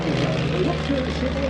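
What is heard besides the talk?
Fuji propeller airplane, Beechcraft T-34 design, flying at air show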